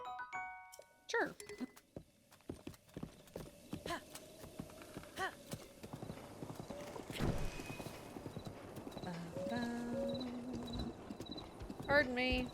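Rhythmic clip-clop of horse hooves in the Akkala region of a video game, quiet at first and then a steadier galloping patter, with game chimes and effects around it and a neigh near the start.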